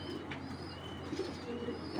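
Low, soft cooing from a racing pigeon, a BRPO club male of grizzle colouring, murmuring steadily through the whole stretch with faint chirps from other birds nearby.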